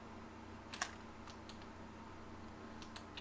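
Commands are typed into AutoCAD on a computer keyboard with Enter pressed, giving a few scattered, quiet, close keystroke clicks in small bursts over a steady low background hum, with no talking.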